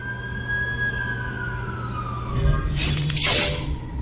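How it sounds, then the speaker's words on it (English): An ambulance siren wails as it approaches, its rising tone growing louder before a sudden burst of crashing noise near the end. "That's the ambulance I called."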